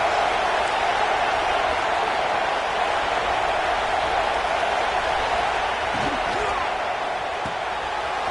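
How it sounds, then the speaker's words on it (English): Stadium crowd noise in the video game College Football 26: a constant, dense roar of a large crowd filling the whole stretch, steady and loud without breaks, with faint thumps underneath. "listen to this crowd noise. This stadium is vibrating."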